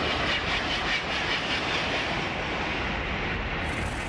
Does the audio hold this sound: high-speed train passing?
yes